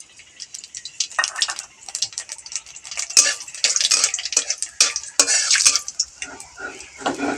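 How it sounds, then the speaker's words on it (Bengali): Black cumin seeds tempering in hot oil in a pan, sharp crackling pops and sputters in quick irregular bursts, with a spoon scraping and clinking against the pan, close and loud, no talking. "একটু কালো জিরে ফোড়ন দেবো"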